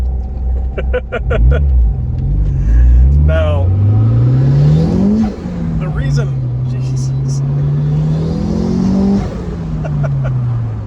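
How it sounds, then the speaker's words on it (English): Honda fitted with a Borg-Warner EFR turbo revs hard and accelerates, a loud, close engine note rising and falling in pitch through two long pulls, with someone talking over it. "the reason this is such a rowdy car for the amount of power it has is that Borg-Warner EFR turbo"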